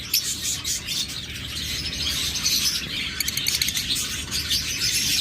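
Pigeons at a bird breeding farm fill the air with dense, continuous chirping and calls, close and fairly loud, with no talking.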